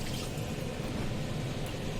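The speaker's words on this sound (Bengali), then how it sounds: "খেজুরটা ভালো করে ধুয়ে নাও," Dates being rinsed under running water, a steady close wash of splashing and trickling with no voices.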